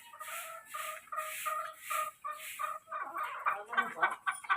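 Chickens cluck and squawk in a series of short, repeated calls, close by, growing busier and more overlapping toward the end.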